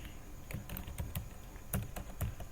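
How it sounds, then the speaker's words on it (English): Keys clatter on a computer keyboard as a username and password are typed in, a loose, irregular run of close, fairly quiet clicks with no voices. "I'll type the username and password"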